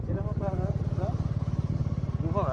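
A motorcycle engine idles nearby with a steady, rapid low putter while a person talks over it.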